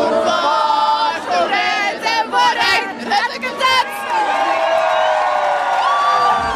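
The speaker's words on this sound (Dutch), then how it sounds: "Ze juichen een beetje vroeg." Outdoor crowd of Belgian football fans watching the Belgium vs USA World Cup match on the Vlasmarkt in Ghent, cheering, whooping and shouting together in a loud, sustained roar with swelling bursts and chatter throughout.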